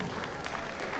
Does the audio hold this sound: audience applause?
yes